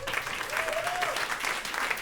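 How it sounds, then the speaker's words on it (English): Steady applause from a panel audience at a Climate Week NYC event on healthy soils, dense and even throughout, with a faint tonal sweep from a voice or instrument briefly rising over the clapping. "Huge applause for them all, please."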